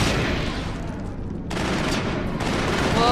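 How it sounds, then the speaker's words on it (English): Rapid bursts of gunfire from the video game Mass Effect 1 crackle in close, loud volleys, briefly thinning before resuming in a dense fusillade. "I'll just shoot them."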